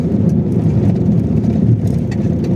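A car drives along a road on the way to a district, its steady engine and road rumble continuous and close throughout with no talk over it.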